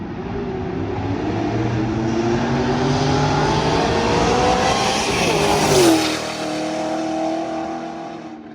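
A 1,000hp Shelby GT500 Mustang races a 1,000hp Dodge Hellcat, engines howling at full throttle with rising gear-change pitch sweeps, then a sharp drop as one lifts off, loud and continuous throughout.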